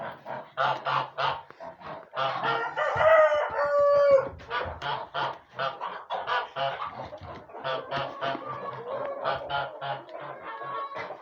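Farmyard geese honk repeatedly in a loud, rhythmic chorus of harsh calls, mixed with some clucking and crowing from nearby chickens, with no talking.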